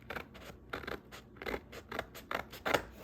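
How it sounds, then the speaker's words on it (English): Scissors snip through tissue paper in a homemade DIY project, making about six quick, crisp cutting bursts in a steady rhythm, close up and alone. "So I still have a little tissue paper to cut off here."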